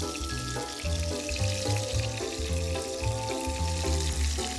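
Pancetta sizzles and crackles steadily in a hot pan, a continuous close frying hiss running under background music with no talking.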